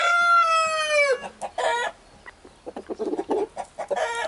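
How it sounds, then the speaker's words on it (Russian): A rooster crows loudly and close by in one long drawn-out call, then several short clucks and calls follow from nearby fowl. "Петухи, да?"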